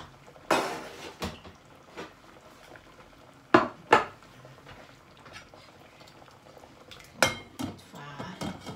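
Noodles boiling in a pot while cooking a khanom jeen fish-ball noodle dish: soft steady bubbling, broken by several sharp, loud metallic clanks of the pot and utensils.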